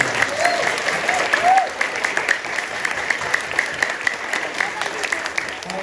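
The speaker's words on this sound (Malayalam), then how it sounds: "ജോസഫ് കുടുംബത്തിന് ഒരു നല്ല കൈയടി കൊടുക്കാം" A church gathering claps for a family at a Sunday school event. The applause is steady and sustained, with a crowd murmur and scattered voices mixed in.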